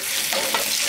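Whole spices and bay leaves sizzle and crackle in hot oil as a tempering for a fish and potato curry, a steady close frying hiss with a stir or two, and no talking.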